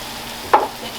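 Carrots and onions for sambusas sizzling in a pan, with a single brief stir or scrape standing out over a low, steady frying hiss.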